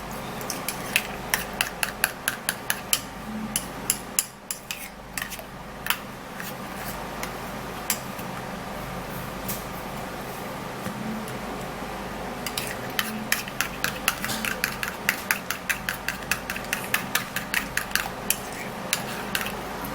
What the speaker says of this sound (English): I'll be using 1 teaspoon of turmeric powder, and then stir it all up